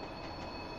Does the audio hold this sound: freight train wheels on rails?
yes